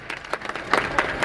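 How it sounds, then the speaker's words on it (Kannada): Audience applause at a Kannada film event: a short, dense burst of clapping from a crowd, fairly loud and steady throughout. "ಜೋರ್ ಚಪ್ಪಾಳೆ"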